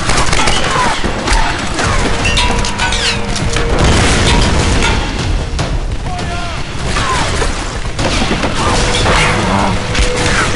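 Gunfire and grenade explosions in the video game Tomb Raider (2013), with dense bursts of shots and booming blasts crowding a loud, busy battle mix, and a voice talking over it.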